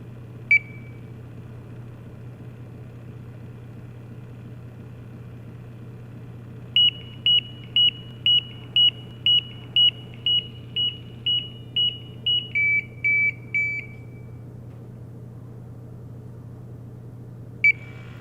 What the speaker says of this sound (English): When that flow check alarm sounds